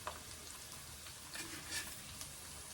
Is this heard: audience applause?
no